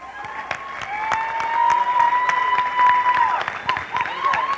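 An audience applauds steadily with scattered claps, and a faint tone and some crowd voices mix in throughout.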